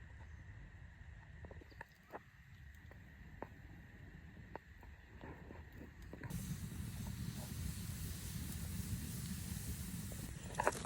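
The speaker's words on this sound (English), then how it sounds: "So we got our water finally boiling right now." Steady hissing and low rumbling of water boiling in a pot over a campfire at a forest campground, growing louder and fuller midway, with occasional small clicks and pops.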